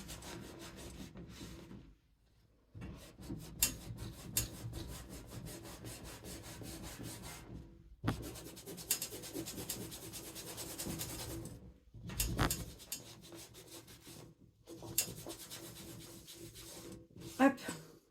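Scrapbooking rubber stamps are scrubbed briskly during cleaning, producing dense rhythmic rubbing and scraping strokes in bursts with short pauses between them, close up and fairly quiet.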